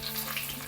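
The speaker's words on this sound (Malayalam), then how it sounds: "ചെറിയ ഉള്ളിയില്ലേ, അതരിഞ്ഞത് ഇട്ട് കൊടുത്തിട്ടുണ്ടേ." Chopped shallots frying in hot coconut oil with mustard seeds, a steady close sizzle and crackle that holds evenly throughout with no voices.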